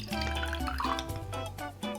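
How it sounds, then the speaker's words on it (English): Water trickles faintly and briefly into a glass with a soft, ringing liquid tone, added a little at a time while mixing water-soluble cannabis powder. "I'm gonna add a little bit of water here."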